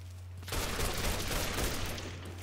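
Sustained burst of rapid gunfire from a gun in the video game Mafia 3, a dense loud rattle of shots running steadily for about two seconds over a low hum, ending in one sharper crack.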